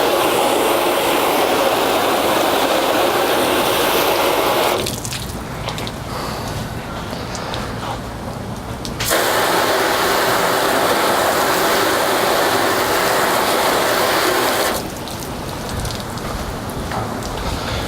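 Garden hose spraying water steadily over a ceramic-coated car, a dense continuous hiss that drops quieter for a few seconds at a time as the spray shifts, then returns at full strength.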